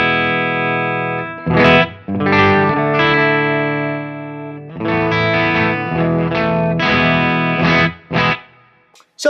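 Electric guitar through a Rangemaster-style treble boost pedal: bright, round chords and single notes with slight grit, strummed in short bursts and held phrases, clear and upfront.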